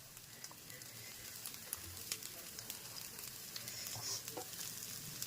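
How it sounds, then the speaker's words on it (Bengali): An egg and cheese kebab fries gently in a pan over a low flame, making a faint, steady sizzle with a few small pops and crackles. "একদম লো ফ্লেমে হালকা করে ভাজবো।"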